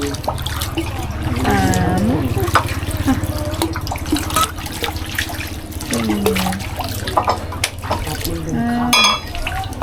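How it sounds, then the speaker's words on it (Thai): Water is scooped from a basin with a ladle and poured over the hands at a Chiang Mai shrine, giving splashing and trickling outdoors while a person talks over it. "ทีนี้ตักน้ำล้างมือซ้ายขวาด้านนอกอ่าง"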